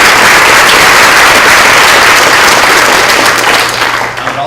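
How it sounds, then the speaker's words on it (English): A seminar audience at a health reform event gives a sustained round of applause, dense and even throughout, easing off slightly near the end. "so let's give them a round of applause"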